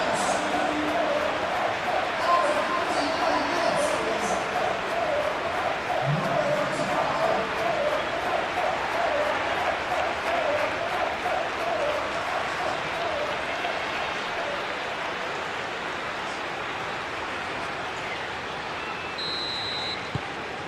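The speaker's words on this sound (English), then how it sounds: "Now the crowd are demanding that they just finish this off." A stadium crowd in a football video game roars as a steady, dense wash of noise through the whole stretch, a distant chant rising slightly beneath it while a commentator talks over the top.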